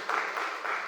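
A church congregation claps for Jesus during a Swahili worship service, with sustained applause swelling in broad waves and no talk over it.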